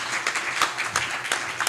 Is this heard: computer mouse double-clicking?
no